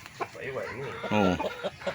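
A black chicken clucks nearby in a backyard, short clucks and one longer drawn-out call, with people talking in the background.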